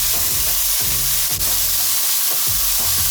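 Mushrooms frying in oil in a pan while being stirred, a constant close sizzle broken by several scraping stirs of the utensil against the pan.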